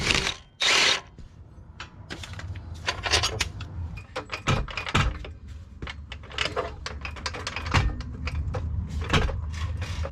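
Bell housing and starter bolts come off a Nissan 350Z HR transmission with a power tool, giving short bursts of ratcheting and clanking metal, close and loud, with rustles and knocks between the bursts.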